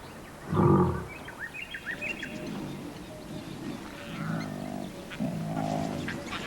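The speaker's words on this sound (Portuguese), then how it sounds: "Seus rugidos informam aos outros leões que o território está sendo reclamado." Lions roar to claim territory: one loud, deep roar near the start, then lower grunting roars that trail off, with faint bird chirps in the background.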